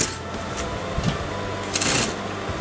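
A sewing machine runs a straight stitch along a strip of velcro, a steady mechanical whir with light rattling, fairly close and heard alone without talk.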